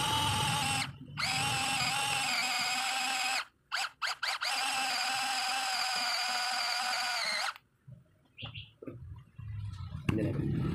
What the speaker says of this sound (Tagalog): gilingin muna natin